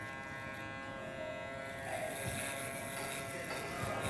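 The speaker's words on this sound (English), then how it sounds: "So try to go as much as you can with the shaver till the end of the line" An electric shaver buzzes steadily while cutting hair in a barbershop during a burst fade haircut, a close, quiet continuous hum whose tone shifts slightly as it moves along the hairline.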